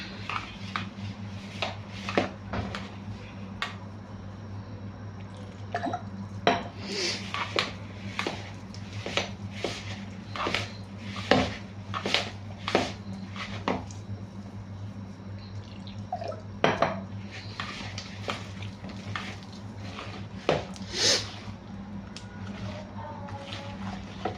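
Bajji batter is mixed with cool water in a bowl, giving soft wet slaps and scrapes with scattered clinks from the bowl, close and quiet, broken by irregular pauses.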